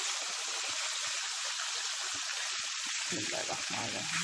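Chicken frying under a lid in a covered pan makes a constant, dense hiss, with soft crackles and a brief muffled clank near the end.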